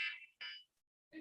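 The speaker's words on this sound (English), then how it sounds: "that's Blair's lunch alarm" A lunch alarm goes off in a symposium meeting room, sounding as three short, bright electronic tones: two quick ones close together, a pause, then a third, fairly quiet and alone.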